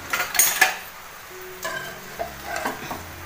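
A spatula scrapes and turns food in a frying pan with a few sharp metallic clicks and scrapes, then a softer sizzle and clatter, close and alone.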